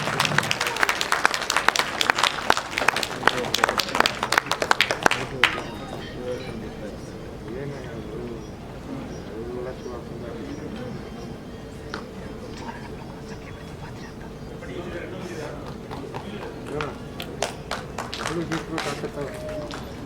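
A dense wave of clapping fills the first few seconds at a Kannada film audio launch event, then fades as a speaker talks over the hall's background murmur, with scattered claps returning near the end.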